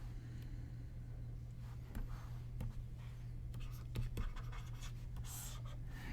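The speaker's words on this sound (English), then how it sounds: "Maybe I can draw some scissors here." Pen strokes drawing scissors on a board during a lecture, a series of faint scratchy marks at irregular intervals over a steady low hum.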